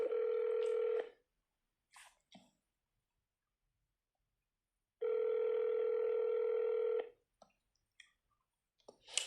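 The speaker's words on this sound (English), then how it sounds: "It's just ringing." A telephone rings on a call to a police department, two long ring tones a few seconds apart, with a few faint clicks and handling noises in between.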